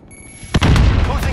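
Grenade explosion in Call of Duty: Modern Warfare, a sharp, loud boom that starts abruptly and then rumbles briefly.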